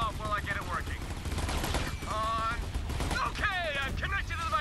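Gunfire from a newly tried weapon in the video game Borderlands 3 crackles in continuous bursts, mixed with bright whining in-game effects and a voice talking over it.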